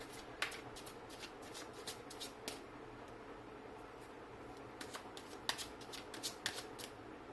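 Tarot cards are shuffled in quick riffling bursts, soft and close, with short pauses between rounds in an otherwise quiet room.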